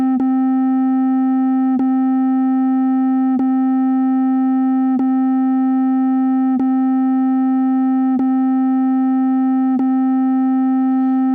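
A Eurorack oscillator holds a steady sine tone tuned to G, sustained and loud with faint harmonics, broken by brief clicks at regular intervals of under two seconds.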